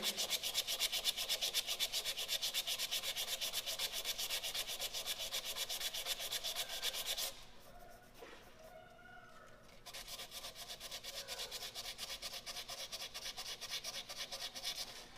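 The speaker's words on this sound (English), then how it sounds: "take it back and forth on these to get my sanding marks to go with the grain" Continuous rhythmic back-and-forth rubbing of sandpaper on a hardwood pen spinning on a lathe, loud and scratchy, pausing briefly midway before resuming at a slightly softer level.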